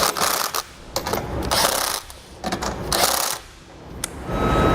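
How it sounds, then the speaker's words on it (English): A 19mm socket on a ratchet tightens trailer hitch hardware on a 2019 Honda Odyssey, with loud, close bursts of metallic clicking and ratcheting separated by brief pauses, no talk. "we'll take a 19mm socket and we'll tighten all of our hardware"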